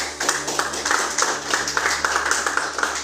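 A church congregation claps for Jesus during a sermon, a steady stream of dense, overlapping handclaps with no voice on top, moderately loud and close throughout.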